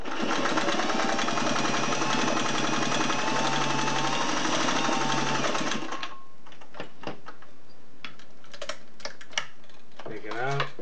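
A Singer 503A slant-needle zigzag sewing machine stitching through leather, running steadily and loudly for about six seconds before stopping, followed by handling clicks, rustles and brief talk.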